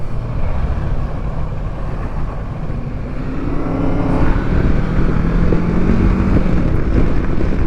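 A Kawasaki Versys 650 motorcycle accelerates in fourth gear, its engine a loud, steady drone that rises gradually in pitch beneath heavy wind rush on the microphone. No voices are present.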